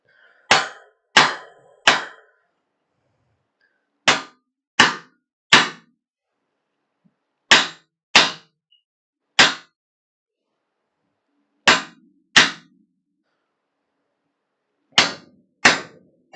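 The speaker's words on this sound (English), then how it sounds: "beating on some hot metal" A hammer beats hot metal at a forge with sharp, ringing blows that come in clusters of two or three, separated by short pauses, loud and close, with no talking.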